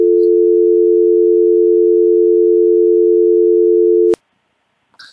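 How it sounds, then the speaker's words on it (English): A voicemail recording tone plays as a steady, loud electronic beep for about four seconds, cuts off sharply with a click, then near-silence. "At the tone, please record your message."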